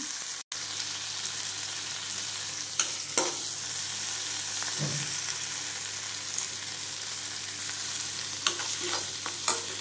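Tempering spices fry in a hot iron kadai over a steady, even sizzle, with a few faint clinks and stirring scrapes scattered throughout.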